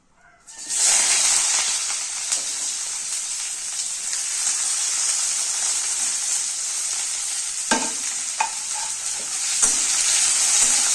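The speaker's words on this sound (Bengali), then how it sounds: "তো তেল গরম হয়ে গেছে এবার একে একে কেটে রাখা পেঁয়াজ টমেটো রসুন আদা তেলের মধ্যে দিয়ে দেবো" Onion, tomato, garlic and ginger dropped into hot oil burst into a loud, steady sizzle that continues close by, with occasional clinks of stirring and no talk.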